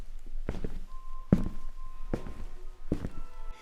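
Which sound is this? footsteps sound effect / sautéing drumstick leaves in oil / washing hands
footsteps sound effect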